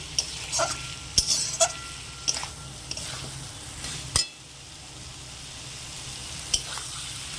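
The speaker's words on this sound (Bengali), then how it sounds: "এইভাবে ভালো করে কষিয়ে নেবেন আর মশলাটা কুঁদরির ভিতরে ভালোভাবে ঢুকে যাবে।" Pointed gourd (kundru) masala sautés in a pan with a soft constant sizzle, broken by scraping stirs and occasional light clinks of a spoon against the pan that fade out toward the end.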